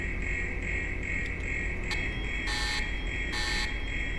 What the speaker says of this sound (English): Oh, that magical alarm.